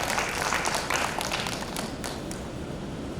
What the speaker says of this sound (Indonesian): Kita beri tepuk tangan yang meriah buat Tuhan